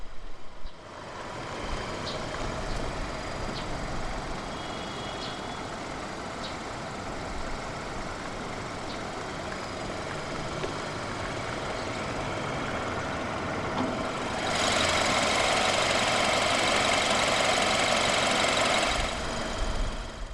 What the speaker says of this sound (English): The heart of the 420i Coupe is BMW's N20 B20 2-litre dual-overhead cam 16-valve turbocharged inline-4 engine.